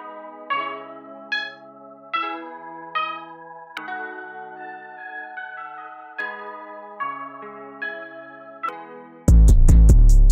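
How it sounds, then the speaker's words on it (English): Bell-like melodic synth tones in an FL Studio beat sound in a steady rhythmic pattern of sustained notes, then a loud burst of drums cuts in near the end. "Let me add my bell."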